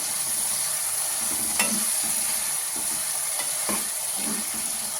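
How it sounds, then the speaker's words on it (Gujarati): A spoon stirs vegetable noodles with red chili and other sauces in a hot pan, giving close, irregular scraping strokes over a steady frying sizzle. "હલાવતું જવાનું છે."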